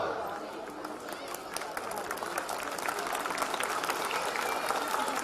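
An audience at a comedy or talk event claps in a steady, dense patter that builds slightly over several seconds, heard from within the crowd.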